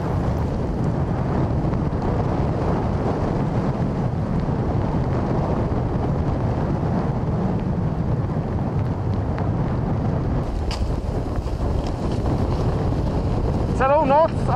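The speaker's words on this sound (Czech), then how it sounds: "Celou noc a půlku dne nám zuzí bouře." An Arctic storm wind blows hard against a campsite sheltered behind a natural rock wall, a loud, constant roaring buffet close to the microphone with brief flapping near the end.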